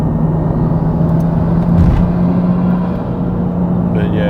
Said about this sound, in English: tuned straight six. It's pretty hard to pass up for the noise.